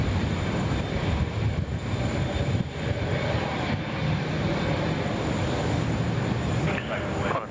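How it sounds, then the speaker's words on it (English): Boeing 777-300 taking off from Sydney Airport, a broad continuous roar of jet engines that stays loud and steady throughout, with faint radio chatter underneath. "Boeing 6773, runway 16 right, clear for takeoff"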